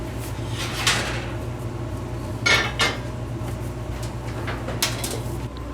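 Metal clatters and clanks as a pan of fudge brownies is taken from the oven, a few sharp knocks and scrapes spaced apart over a quiet kitchen background.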